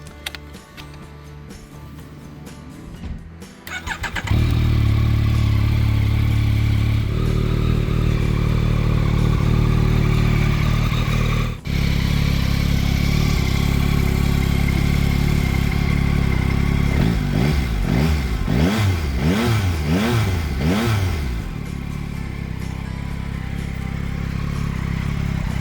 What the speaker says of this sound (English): what really caught me off guard is how smooth and flexible the engine is